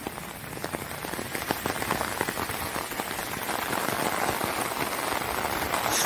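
Rain falls through a storm and patters steadily on a surface, a dense hiss that grows slightly heavier and louder toward the end, with no voices.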